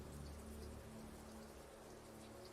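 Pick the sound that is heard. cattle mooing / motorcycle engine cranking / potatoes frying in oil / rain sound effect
rain sound effect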